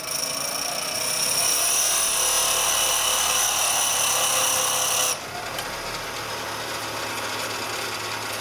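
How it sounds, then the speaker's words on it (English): A power grinder dresses a cutting-tool tip during a 1990s Harley-Davidson Evolution bottom-end rebuild, giving a loud, steady high whine for about five seconds before it drops to a lower, quieter run-down hum. "But I have to grind it until that tip cleans up."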